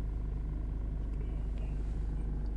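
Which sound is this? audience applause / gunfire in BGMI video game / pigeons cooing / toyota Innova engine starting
toyota Innova engine starting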